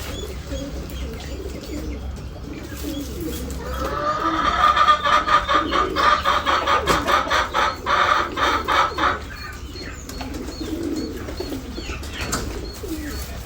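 Chickens and pigeons kept together at a home coop, giving soft clucks and cooing murmurs that swell into a rhythmic run of calls mid-way, then fade back to low background bird sounds.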